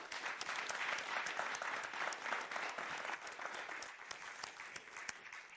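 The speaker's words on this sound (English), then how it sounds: "Let's give them a warm hand of applause." An audience at an India Sweden innovation event gives sustained applause, many hands clapping crisply and steadily, moderately distant, easing slightly toward the end.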